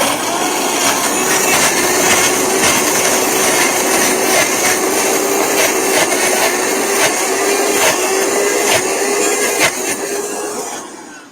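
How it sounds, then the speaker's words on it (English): Blender running steadily to whip raw pecan pie filling into a cream, a loud continuous motor whine with a grinding, whirring texture that holds for about ten seconds before winding down. "And I'm going to blend it to a cream."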